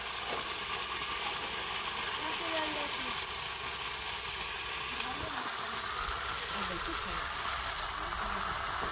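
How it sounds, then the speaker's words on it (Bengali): Spice paste with salt and turmeric fries in a pan on a clay stove, giving a steady, even sizzle throughout, with faint background sounds under it. "মশলাটা খুব ভালো করে কষিয়ে নেব"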